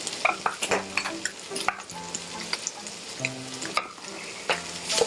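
Minced meat for shepherd's pie stir-frying in a hot pan, a busy sizzle broken by repeated scrapes and clinks of a utensil against the pan, close and lively.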